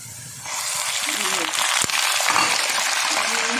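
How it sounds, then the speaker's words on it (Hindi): Minced meat dropped into a pan of browned onions sets off a sudden loud, steady sizzle of frying that continues throughout, with a short clatter of utensil against pan. "ये प्याज मेरा ब्राउन हो गया है, अब इसमें हम डालेंगे कीमा।"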